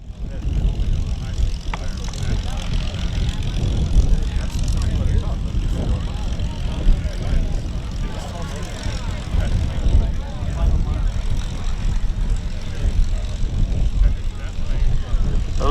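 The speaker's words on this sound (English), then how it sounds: "with the North American P-51 Mustang" A North American P-51 Mustang propeller aircraft flies at a World War II weekend air show, producing a loud, steady droning roar that holds for the whole stretch, with muffled voices faintly underneath.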